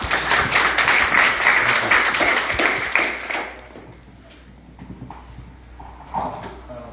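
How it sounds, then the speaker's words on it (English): An audience at a farming panel discussion applauds Julie with dense, steady clapping that fills the room for about three seconds, then thins out and fades into quieter room noise. "Can we give her a round of applause, please?"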